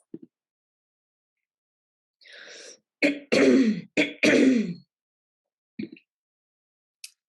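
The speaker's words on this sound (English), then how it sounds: "I had some cough there." A person nearby clears their throat and coughs several times in a short cluster, with a few quieter throat sounds around it.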